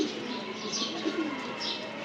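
A young male army pigeon, hand-raised from a chick, coos softly in a low, steady murmur, with a few faint higher chirps mixed in across the short stretch.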